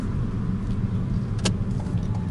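A car parallel parking during a driving lesson, its engine giving a steady low rumble close by with a brief sharp click midway.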